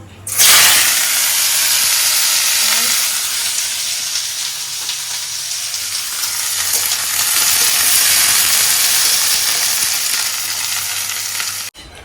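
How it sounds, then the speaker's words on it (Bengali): Okra frying in a pan gives a loud, continuous sizzle and hiss that swells and eases slightly across the stretch, close up and with no talk over it. "আজকে একটু ঢ্যাঁড়স ভাজা করে নেবো"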